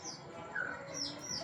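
A magpie robin gives agitated calls, a few faint, sharp whistled notes and chirps over a soft background hiss.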